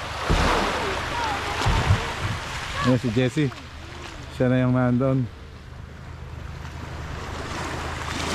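Sea waves wash near a boat being dry-docked on a beach at dusk, a steady broadband surf roar with wind buffeting the microphone, while people talk over it.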